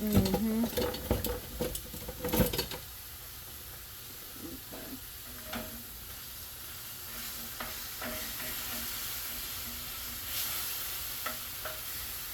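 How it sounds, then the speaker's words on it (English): Ground turkey frying in a heated pan, with a few loud stirring scrapes and clatters in the first seconds, then a steady soft sizzle and hiss with occasional light taps, close by. "I just kind of heated my pan up for my ground turkey"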